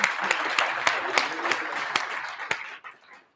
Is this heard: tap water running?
no